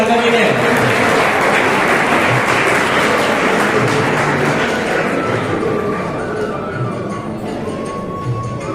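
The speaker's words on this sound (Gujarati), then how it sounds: "જોરદાર તાળીઓથી વધાવીએ ભાર્ગવીને" Loud, dense audience applause fills a school golden jubilee alumni gathering at Sanskar High School in Ratanpur, Idar, sustained throughout and easing slightly toward the end.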